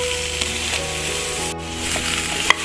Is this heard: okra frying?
yes